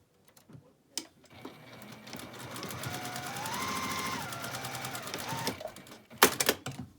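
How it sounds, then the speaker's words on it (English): A sewing machine hems a fabric edge for a patchwork drawstring bag, its motor whirring steadily for a few seconds between soft handling clicks and taps. "Okay, so I'm just going to hem this edge."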